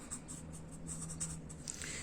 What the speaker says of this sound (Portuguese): Vou pegar a caneta e vou esfregar no meu cabelo.